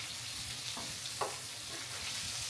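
Sausage, mushrooms and potatoes frying in a pan, with a steady soft sizzle and a few faint scrapes and knocks from stirring, no voices.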